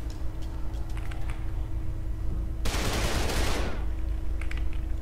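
Gunfire in the video game Trepang 2 comes as one loud, dense burst of about a second over steady background game hum, with faint clicks before and after.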